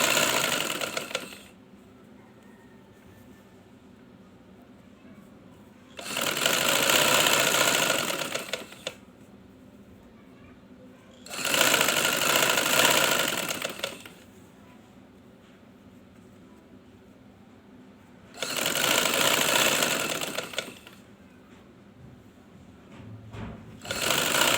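Sewing machine stitching a fabric strip onto cloth, running in several steady whirring bursts of a few seconds each, broken by quiet pauses, close and clear.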